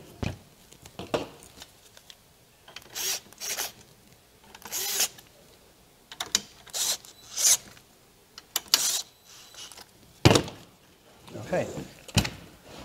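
Rails being tightened on an M3D Crane 3D printer during Z-system alignment: a series of short, close mechanical scrapes and ratcheting clicks in irregular bursts, with brief quiet gaps between them.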